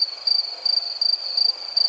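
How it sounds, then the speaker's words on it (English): A crickets-chirping sound effect: a high, bright trill pulsing in quick, regular bursts over a faint hiss, heard alone without speech. "crickets."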